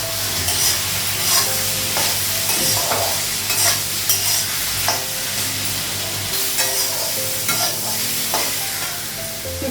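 Papaya slices frying in a pan on a gas stove, with a loud continuous sizzle and repeated scraping strokes of a spatula stirring them throughout.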